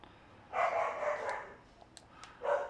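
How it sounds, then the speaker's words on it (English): A dog barks twice, moderately close, with two drawn-out woofs separated by a short gap and faint clicks in between. "Listen to the dog bark."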